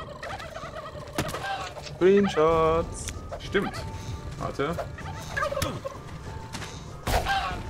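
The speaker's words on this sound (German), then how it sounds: "Ach du Scheiße, das sind ganz viele Gockel." Flock of small infected turkeys gobbling in the zombie survival game How to Survive 2, several warbling calls in bursts under and between steady talking by players.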